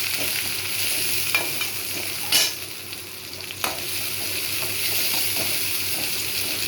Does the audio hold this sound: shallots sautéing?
yes